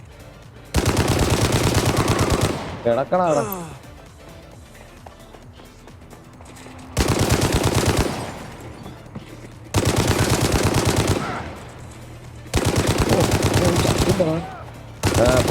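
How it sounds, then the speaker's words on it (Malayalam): Gunfire in the open-world game Gangstar Mirage City comes in long, loud automatic bursts separated by short pauses, with a brief spoken line between volleys. "ഗാങ്സ്റ്റർ മിറാജ് സിറ്റിയിൽ കുറച്ച് നേരം ഒന്ന് വെടിയൊക്കെ വെച്ചാൽ"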